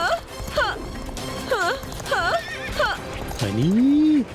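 A cartoon horse gives a string of repeated whinnies in quick bursts, ending in a long drawn-out neigh, with hoof clip-clops and a voice talking over it.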